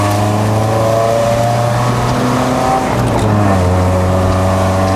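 A Honda Civic EG9 with a naturally aspirated 1.6-litre four-cylinder B16 engine and upgraded gearbox drones loudly from inside the cabin, a steady buzzing note that dips slightly and climbs again as it pulls uphill.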